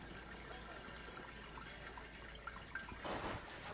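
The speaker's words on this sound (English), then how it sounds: "Now I've poured about a gallon of water through this." Water trickles and pours through a grain bag into a brew kettle for a home-brewed imperial chocolate coffee stout, a steady close wash of liquid that swells into a louder splash near the end.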